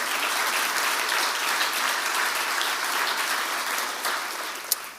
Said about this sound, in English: yes, you can clap for that as well